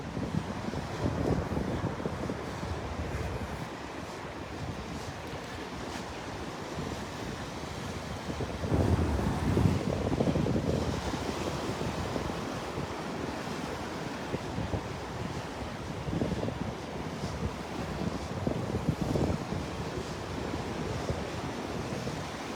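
Ocean surf breaking along the water's edge at Delnor-Wiggins beach, a steady loud wash of waves with strong wind buffeting the microphone and a louder surge midway, no voices.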